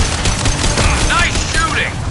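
Rapid gunfire crackles in the Mass Effect video game, a dense continuous burst of shots with game sound effects mixed in.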